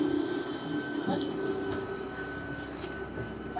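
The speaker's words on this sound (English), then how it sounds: "Okay, we're hopping on the train." A London train rolls along with a low, steady rumble and a faint constant hum from inside the carriage, moderately quiet, with some faint voices mixed in.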